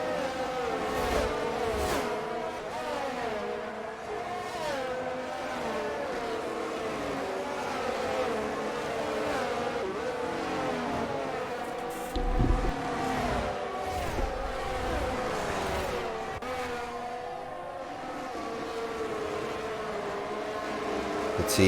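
Virtual F1 race cars roar around the Bahrain circuit in the F1 2022 video game, a continuous high engine whine with rising and falling pitch as gears shift, steady and fairly loud throughout.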